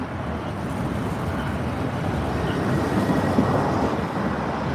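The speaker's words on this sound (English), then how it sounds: "We got the train right here." A train rumbles past by the water in San Francisco at sunset, a steady, broad roar of wheels and carriage noise with no voices.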